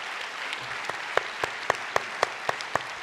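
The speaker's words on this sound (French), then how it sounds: "Merci de les applaudir." Audience applause at the Deauville film festival, moderate continuous clapping from a crowd with a few sharp, louder individual claps standing out near the microphone.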